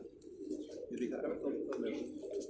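Pet pigeons coo softly in a continuous low murmur, faint and close, with people talking quietly nearby.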